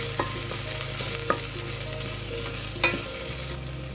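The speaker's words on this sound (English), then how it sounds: "So just brown the garlic and ginger" Garlic and ginger brown in hot oil as the base of a vegetable soup, with a steady close sizzle and occasional clinks of a utensil stirring the pan.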